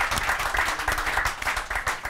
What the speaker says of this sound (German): Applaus für Marvin, meine Damen und Herren.